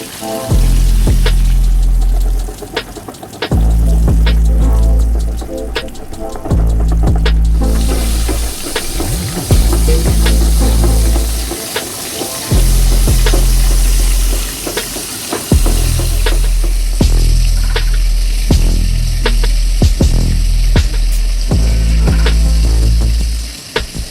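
Loud, steady sizzling of green beans frying in hot oil, with occasional clinks and stirring sounds and pauses in the crackle.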